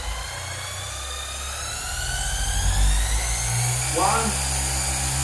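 Car polishing machine spinning at speed 3 as it sweeps left and right over paintwork applying Autoglym Super Resin Polish, a steady high whine that swells midway, with a voice counting over it.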